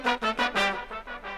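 A brass counter melody from trumpet and trombone played in octaves for a trap track, with a few short bright swelling notes in quick succession, close and clear, no voices.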